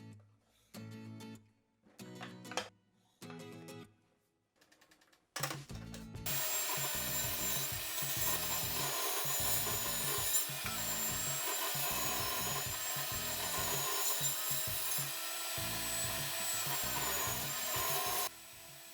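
Power tool trimming the overhang off a wooden shelf box top, a steady loud cutting whine sustained for about thirteen seconds after a few short starts.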